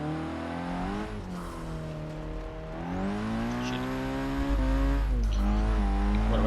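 A Nissan Silvia Spec-R S15 drift build in Forza Motorsport 6 slides across grass, its engine revving up and down in rising and falling strained notes, growing louder toward the end.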